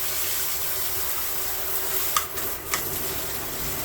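Shower water runs steadily in a hotel bathroom at a Hampton Inn in Mahwah, New Jersey, a constant broadband hiss with two brief clattering splashes partway through.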